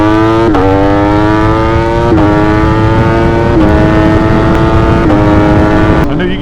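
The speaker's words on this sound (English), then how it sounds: "I know you guys can't see, but there's a bike behind me." A Ducati Streetfighter V4 motorcycle engine runs loud and close, its steady high-pitched tone stepping down in pitch several times across the span.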